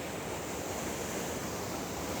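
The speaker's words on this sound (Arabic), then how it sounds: "البحر عالي جدا النهارده، ما ينفعش للسباحة خالص." Rough, high sea waves at Alexandria crash and wash continuously in a dense, even roar of surf, with wind noise mixed in and no voices.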